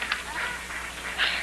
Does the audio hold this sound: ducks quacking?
yes